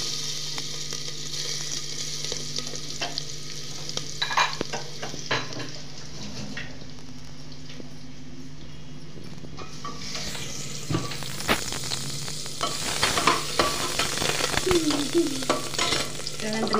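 Cumin, curry leaves and finely chopped garlic frying in a pan, a steady close sizzle with stirring scrapes, growing louder and busier toward the end.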